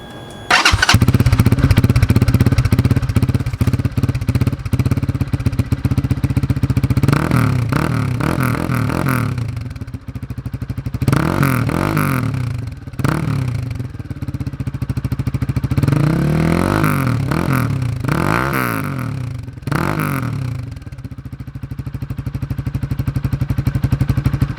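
Lifan KPR200 motorcycle with an aftermarket exhaust and rear silencer fitted, idling with a deep, steady burble close by, broken by several revving bursts that rise and fall.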